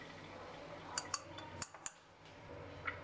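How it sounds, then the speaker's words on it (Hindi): Flour and baking powder are sifted for a homemade pineapple pastry. A metal sieve gives a few scattered, light clinks and taps against a bowl in a quiet kitchen. "मैदे को और बेकिंग पाउडर को हम छान लेंगे"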